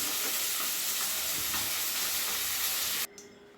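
Chang fish frying in a hot wok, a steady close sizzle with faint stirring scrapes that cuts off abruptly near the end, leaving a quiet hiss.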